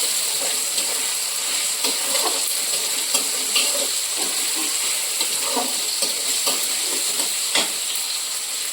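Onions and tomatoes fry in a pot for a meat pulao, giving a steady hiss and sizzle with soft intermittent stirring scrapes, close by and with no talking.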